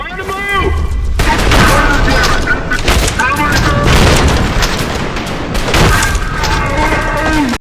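Shotgun blasts in the shooter Trepang2, heavy booming shots repeating over several seconds among other combat noise, with voices talking over the firing.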